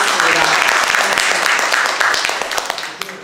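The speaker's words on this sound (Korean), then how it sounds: "박수 한번 부탁드리겠습니다." A crowd at a poetry talk concert in Mungyeong claps after a recited poem, dense and lively at first, then thinning and fading out toward the end, with a few scattered claps left.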